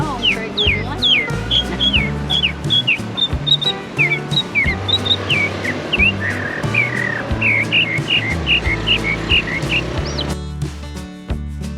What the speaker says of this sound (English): The mockingbird, best known for mimicking songs of other birds and even insects and amphibians in loud, rapid succession.